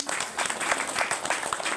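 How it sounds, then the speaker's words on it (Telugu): Listeners at a spiritual discourse give a short round of clapping, a quick flurry of many hands at moderate loudness with audible individual claps. "మీకు క్లాప్స్ కొట్టండి."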